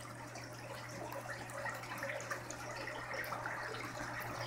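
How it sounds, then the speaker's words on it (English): Water trickles and splashes steadily in an aquaponic setup, a soft continuous wash of falling water with a low steady hum beneath it, faint and without voices. "You should be able to see the water dropping."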